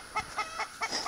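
Backyard chickens cluck in short repeated bursts while pecking at grocery store scraps like lettuce, squash, pears and cantaloupe, several close, moderately loud calls in a steady rhythm.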